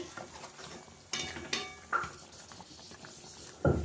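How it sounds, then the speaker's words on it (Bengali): Prawn malai curry cooking in a pan, with a soft simmering sizzle and several sharp utensil clinks and scrapes against the pan, close and without talk. "এই যে চিংড়ি মাছটা এই যে রান্না হচ্ছে"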